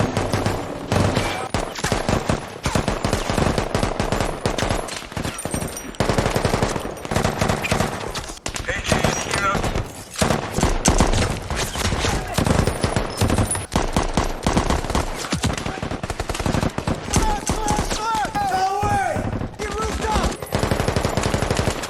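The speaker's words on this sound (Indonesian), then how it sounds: "dari lantai atas dan dari gerbang depan rumah, anggota Jack terlibat baku tembak dengan anggota Al-Qaeda" A sustained firefight in a war film between soldiers and Al-Qaeda fighters, with dense loud bursts of automatic and single gunshots rattling almost nonstop, a few shouted voices mixed in.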